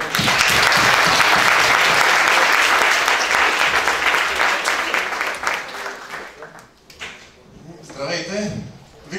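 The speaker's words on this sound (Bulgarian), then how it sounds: "Моля за аплодисменти." A lecture audience applauds a speaker at a public-speaking talk, giving a dense, loud round of clapping that thins out and fades. A voice then begins speaking.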